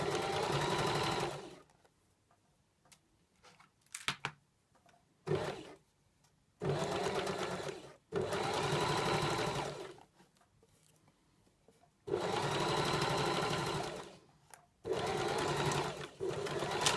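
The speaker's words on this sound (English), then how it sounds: "And then I'll stitch the second shoulder." A sewing machine stitches a shirt shoulder seam in several loud, steady runs of rapid mechanical whirring, separated by quiet pauses filled with small handling clicks and rustles.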